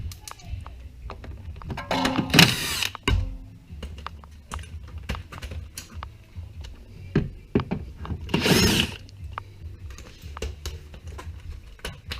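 A power tool whirs in short bursts while bolts come off a Mercedes ML350 W166 Bluetec DEF tank, two louder runs stand out among scattered clicks and clatter of handled parts, with occasional speech.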